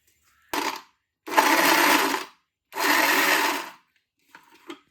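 A mixer grinder whirs in three loud bursts while grinding soaked soya chunks, short then two longer runs, with brief pauses and faint clatter at the end.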